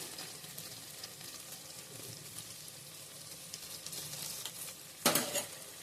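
Mutton trotters being stirred with turmeric and ginger garlic paste in a hot pan, a soft continuous sizzle with scraping stir strokes and a louder clatter near the end.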